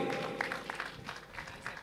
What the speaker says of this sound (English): Let's give one more big round of applause to both SMA Muhammadiyah and SMA Negeri 3 Merauke.